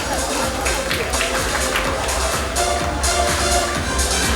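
Audience applause welcoming a guest onto the stage at a public event, steady dense clapping from a crowd with some murmuring throughout.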